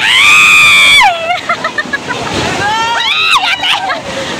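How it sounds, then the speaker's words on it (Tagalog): Loud rushing water with splashes and strong surging sea waves, under high-pitched excited voices and shouting close by. "Lakas ng alon mga mani."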